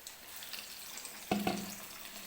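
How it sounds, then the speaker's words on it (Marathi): Battered potato bhaji fry in oil in a kadai over medium gas, a soft continuous sizzle with a couple of brief clattering knocks near the end. "मीडियम गॅसवरतीच भजी तळून घ्यायचे"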